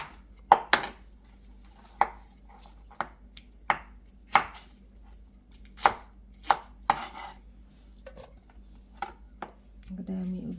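A knife chops the white part of a green onion on a cutting board, a dozen or so sharp, irregular thuds close by, with a clatter of kitchenware at the end.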